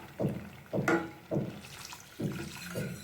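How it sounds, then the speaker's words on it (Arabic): Half a litre of milk is poured gradually into a pan in small additions, giving soft, intermittent splashing and trickling pours in short bursts, fairly quiet and close. "نضيفوا عندنا هنا نصف لتر حليب، نضيفوا شويه بشويه"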